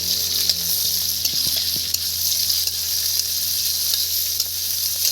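Chopped onion sizzles steadily in hot oil in a pan as it is stirred, a continuous close frying hiss with occasional soft scraping, no talking, for a spicy semolina dish.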